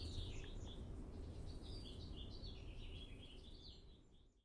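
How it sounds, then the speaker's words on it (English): An evening bird chorus on Mount Diablo, rich with Red-winged Blackbirds, sounds as faint, distant chirps and trills over a soft low rumble that fades out at the end. "This is one of an evening chorus that features pretty heavily the Redwinged Blackbird, which is a migratory bird"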